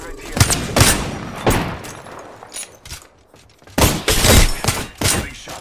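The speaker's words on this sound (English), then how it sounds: "Getting shot at." Bursts of gunfire from an Apex Legends firefight on Xbox, loud and close with short volleys and thumping impacts, broken by quieter gaps and mixed with in-game voice callouts.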